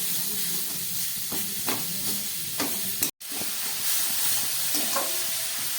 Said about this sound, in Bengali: এই গুড় আর নারকেলটাকে খানিক্ষণ কষিয়ে নেব যাতে সুন্দর একটা পেস্ট তৈরি হয়